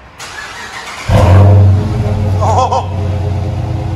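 A Dodge Charger R/T with a 5.7L HEMI V8 and Flowmaster FX exhaust cranks and fires up close by, roaring loudly into a deep, steady idle, with a brief voice at the start.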